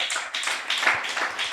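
Church congregation during a Spanish-language sermon clapping in praise, a brisk, fairly close patter of many hands with an uneven rhythm, no voices over it.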